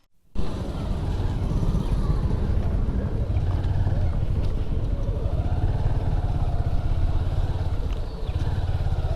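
A motor trawler crossing a river at a ferry ghat, its engine a loud, steady, close drone throughout, with some wind buffeting the microphone.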